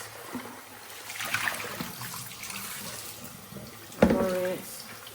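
Tap water runs steadily over a roast being rinsed in a kitchen sink, with a louder gush near the end as the flow shifts. A voice talks faintly beneath the running water.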